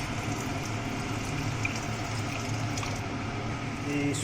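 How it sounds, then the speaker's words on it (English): Water pours steadily into a pan while aloo tikki is being cooked, making a continuous gurgling, splashing rush that stays fairly loud throughout with no pauses. "add some water"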